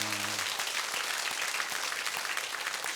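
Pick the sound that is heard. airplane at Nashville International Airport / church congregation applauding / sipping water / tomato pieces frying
church congregation applauding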